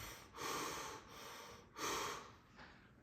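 Two strong breaths drawn and pushed through the holes of a mouthguard, each a broad airy rush lasting about half a second, with a fainter third breath at the end, close and quiet between.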